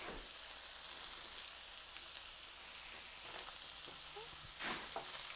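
Gentle frying sizzle from a pan of pointed gourd and potato curry as turmeric, black pepper, red chili powder and salt are stirred in, a steady soft hiss with a brief louder scrape of mixing near the end.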